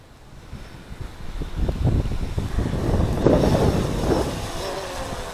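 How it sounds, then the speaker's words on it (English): Warm outdoor wind buffets the microphone during a toy stunt-drone flight, producing loud rumbling gusts that swell and fade irregularly over several seconds, with no voices. "that wind is quite warm"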